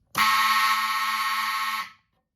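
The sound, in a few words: Gamewell Zans 400 fire alarm panel signals sounding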